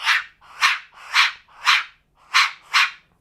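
A handheld jay whistle imitates a jay's call: six harsh, breathy squawks in an even rhythm, close and loud, with nothing else underneath.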